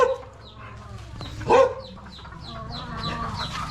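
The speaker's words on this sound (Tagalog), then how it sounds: "Ito yung manukan ko." Chickens and roosters at a backyard chicken farm cluck and call close by, with repeated short clucks and one louder crow-like squawk in the middle.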